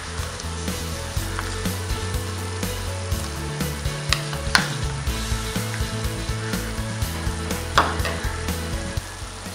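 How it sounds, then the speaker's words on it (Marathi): Ginger-garlic paste and chilli spice mixture sautéing in a pan for dry egg masala, a steady close sizzle with scraping stirs and a few sharp clinks of the spoon. "सर्व मिश्रण परतून घेऊया."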